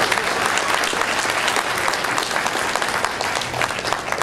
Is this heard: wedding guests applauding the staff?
yes